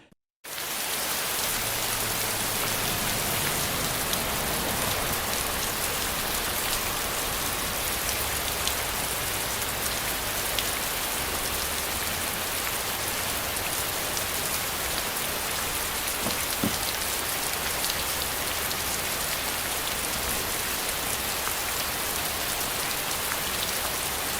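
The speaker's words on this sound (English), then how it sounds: "here's actually a little scene that I did with the car and the rain machine." Artificial rain from a DIY film rain machine spraying onto a car at night, a dense continuous patter and hiss of droplets hitting the surface, steady and close throughout.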